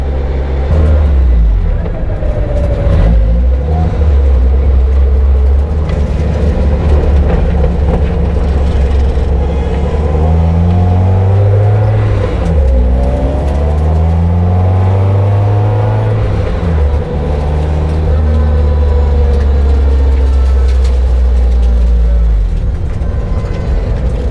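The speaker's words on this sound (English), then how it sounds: "Now I can hear all the other noises that my car is making." Car engine with a Holley Hydramat fuel cell setup running loudly up close, a steady rumbling drone that rises and falls in pitch with revs, accompanied by assorted mechanical rattles and noises.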